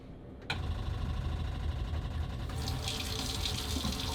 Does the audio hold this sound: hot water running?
yes